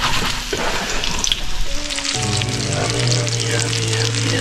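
Perch fillets fry in a hot pan, a steady close crackling sizzle running throughout with some hums and clatter in the kitchen.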